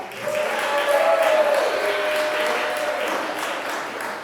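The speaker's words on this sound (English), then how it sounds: "Let's give a round of applause to them as well" A wedding reception crowd claps steadily and loudly for several seconds, a dense wash of applause that holds and then eases slightly toward the end.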